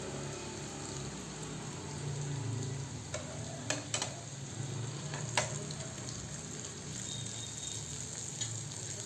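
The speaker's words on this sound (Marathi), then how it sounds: "आता आपण ती छान गुलाबी रंगावरती तळून घेऊया" Dal veg vadi deep-frying in oil until golden pink, a soft continuous bubbling sizzle with a few brief clicks and taps of a utensil, heard alone and at moderate distance.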